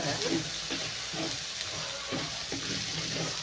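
Pallipalayam chicken with plenty of black pepper and a single tomato fries in a pan, a close, steady sizzle with soft stirring scrapes recurring throughout.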